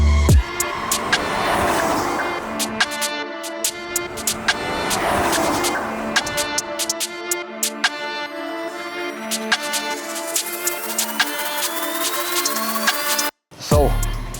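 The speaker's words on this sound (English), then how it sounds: "You can hear the turbocharger straight away, that's for sure." A Rolls Royce Ghost with a twin-turbo V12, engine light on, drives along with a smooth engine hum, rising whine and repeated rattles and clicks in the cabin, a brief cut near the end.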